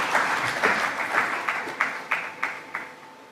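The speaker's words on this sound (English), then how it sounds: "Please join me in applauding this wonderful panel for their interventions this evening." Audience clapping for a panel at a ministerial session of an ocean dialogue, a steady patter of hands that grows into distinct rhythmic claps toward the end, fairly loud and close with no talk over it.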